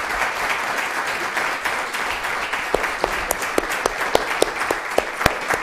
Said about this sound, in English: Let's give Nolan one more hand of applause.